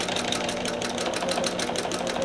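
A home sewing machine in need of servicing stitches a quilt block, with a loud, steady close-up whir and rapid regular needle clatter, no talking.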